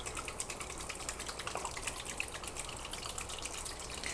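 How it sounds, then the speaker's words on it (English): Water gushes steadily from a kitchen tap into a soup pot of beef chunks, a continuous close splashing rush with no voices. "I'm going to try to cover this up with water."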